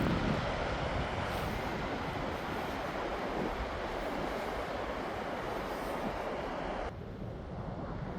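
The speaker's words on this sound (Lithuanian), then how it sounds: "vandenynas ošia." Atlantic Ocean surf on the Irish coast, a broad, continuous roaring wash of waves with some wind buffeting, heard alone.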